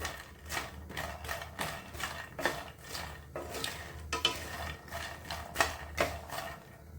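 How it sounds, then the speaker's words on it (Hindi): Makhana fox nuts roasting in ghee in a pan, stirred with repeated scraping strokes in a steady rhythm, with light rattling and clinking, close and moderately loud, no voices. "ये देखिए मखाने अच्छे से भून गए हैं, क्रिस्प हो गए हैं।"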